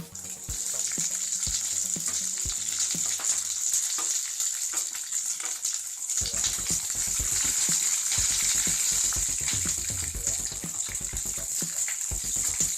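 Onions frying in a pan for chitranna, a steady loud sizzle throughout with scattered clicks and stirring knocks, no voices.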